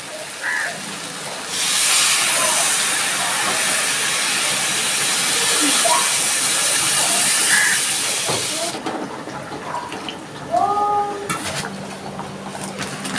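Water poured into a hot pan of fried masoor lentils and spices bursts into a loud, sustained steaming hiss that holds for several seconds, then cuts off, leaving quieter bubbling and a few kitchen clinks.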